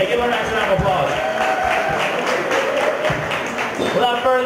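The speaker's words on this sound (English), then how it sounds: "give her a nice round of applause" Crowd at a live MMA weigh-in event at a club applauds and cheers continuously, a dense wash of clapping with voices mixed in throughout.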